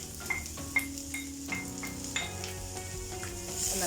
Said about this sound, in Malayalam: സവാളയുടെ കൂടെ കരിവേപ്പിലയും പച്ചമുളകും കൂടെ നമുക്ക് ഇട്ട് കൊടുക്കാം.